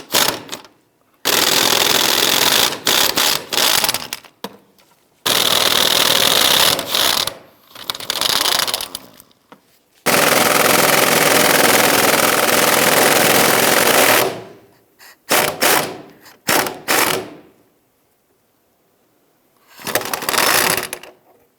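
Power tool removing bolts on the driver's side of a 1999-2004 Jeep Grand Cherokee, loud rattling bursts of a few seconds each separated by pauses, close up, no speech.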